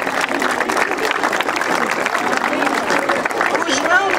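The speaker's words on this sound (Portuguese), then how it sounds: "uma salva de palmas para ele" Students and guests applaud a pupil called up at a school ceremony opening the academic year in Mangualde, with crowd clapping running under murmuring voices and chatter throughout.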